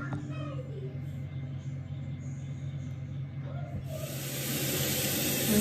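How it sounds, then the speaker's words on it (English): Water rinsing an Aztec healing clay face mask off skin, a steady hissing run of water that grows louder and brighter toward the end, with the level rising in the last two seconds. "as you can see, I'm rinsing off the face mask."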